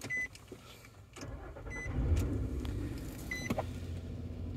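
A 2011 Nissan Pathfinder with keyless push-button start turns over, a short mechanical whir and click, then the engine catches and settles into a low, steady idle heard from inside the cabin.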